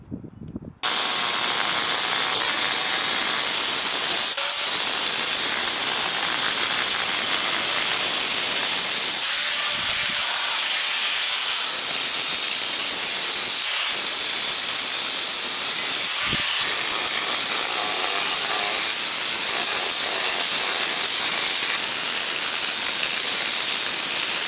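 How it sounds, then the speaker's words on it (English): Angle grinder fitted with a diamond disc cutting into patio slabs, a loud sustained high-pitched whine and gritty hiss running almost unbroken, with a few brief dips as the blade eases off. "so I can cut the slabs with an angle grinder and a diamond disc"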